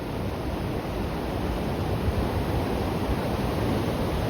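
The fast-flowing Sina river rushes with a steady, dense roar at close range, unbroken and with no voices.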